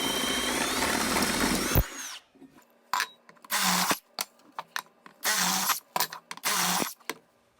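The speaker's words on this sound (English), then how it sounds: "Take a 5/16 bit and drill out both holes in each of our aluminum extrusions." A power drill fitted with a 5/16 bit bores holes in aluminum extrusions: a loud whine at first, then several short separate bursts of drilling with quiet gaps between them.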